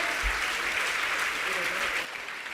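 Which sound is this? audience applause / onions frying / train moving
audience applause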